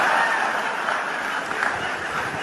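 Applause from a comedy show audience, a dense, steady wash of clapping that holds at full volume throughout without letting up.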